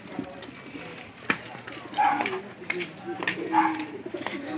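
Pigeons coo softly and repeatedly at a crowded loading station. Their low, throaty calls come in short bursts amid background murmur and scattered clatter.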